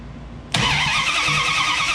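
A Mopar A-body car engine cranks and catches on a newly installed starter: quiet lead-in, then an abrupt loud start at about half a second settling into a steady, close rumbling idle.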